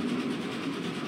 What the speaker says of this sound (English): I'm gonna block off the train so it doesn't move.